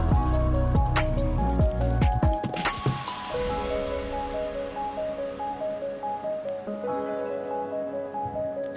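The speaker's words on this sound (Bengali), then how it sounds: "তো এবারে আমি দিয়ে দিচ্ছি 2 চামচ মতো ফেটিয়ে নেওয়া টক দই, আর বাটি ধুয়ে একটু জল দিয়ে দিলাম।" Whisked sour yogurt and a splash of water go into mutton cooking in a pan for kala bhuna, with wet squelching and sizzling up front, then a steady hiss and soft rhythmic bubbling.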